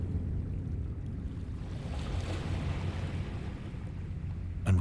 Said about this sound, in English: Oh, there's some water here.